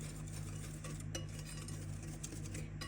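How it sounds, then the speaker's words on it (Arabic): Dry cake ingredients, flour and sugar for an eggless, milk-free chocolate cake, being stirred by hand in a bowl, a soft continuous scraping and clinking under steady low kitchen hum, no talking. "صافي غادي نخلط هاد النواشف كاملين"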